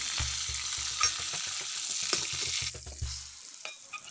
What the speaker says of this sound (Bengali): কাঁচা কলা আলুটা নেড়ে চেড়ে ভেজে নিয়েছি